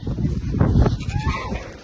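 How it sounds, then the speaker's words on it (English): Goats bleat in a farm setting on loading day, several overlapping calls close by against rustling and movement, with no talk over them. "All I got is a bunch of goats."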